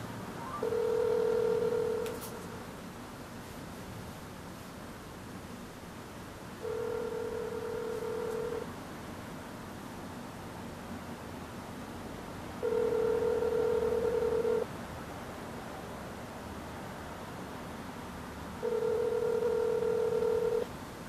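A cell phone places a call, sounding four identical steady electronic tones of about two seconds each, evenly spaced with quiet gaps between them, over faint background hiss.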